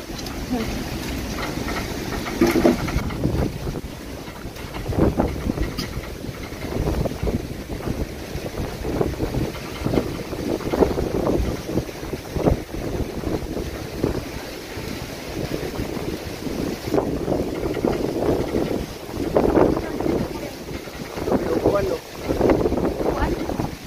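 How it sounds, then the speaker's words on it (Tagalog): Strong wind roars in a steady, gusting rush with occasional louder blasts, filling the whole stretch and blurring any other sounds nearby. "sa lakas ng hangin na iyan"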